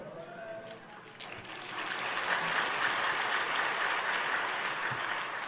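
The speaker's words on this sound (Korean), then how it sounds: "생각해보니까 박수 쳐야 되겠지." Congregation applause at a church revival meeting, a dense crowd clapping that swells after a brief lull and continues at a moderate distance.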